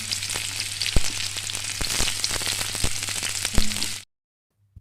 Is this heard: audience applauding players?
no